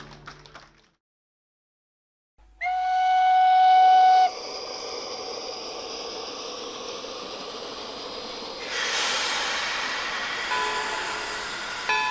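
A model train layout runs with a whistle sounding, a steady tone lasting a couple of seconds after a short silence, followed by continuous running hiss and rumble, loud and close throughout.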